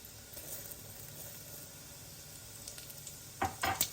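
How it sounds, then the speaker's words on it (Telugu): Mustard seeds splutter in hot oil for a moringa dal tempering: a low steady sizzle builds into a burst of crisp, rapid crackling pops near the end, close and fairly quiet. "ఆవాలు చూసారా ఇంత మంచిగా చిట్పట్టమంటున్నాయి"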